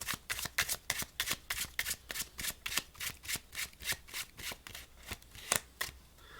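Playing cards riffle and slap in a quick, loose rhythm of about twenty crisp bursts in a sloppy, Vegas-style shuffle, close and fairly quiet.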